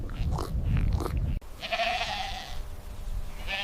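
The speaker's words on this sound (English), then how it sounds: "Medium gray savanna wild goat." A savanna wild goat gives a long, loud, wavering bleat up close after a burst of rumbling noise, which ends with a sharp click.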